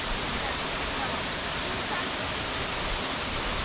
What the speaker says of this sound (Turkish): Mençuna Şelalesi'nin önündeyiz